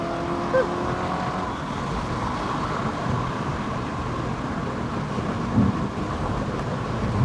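A BMW E34 540i races a BMW Z3 on a curving road, their engines producing a steady, loud roar throughout with no breaks, a couple of brief louder bumps partway through.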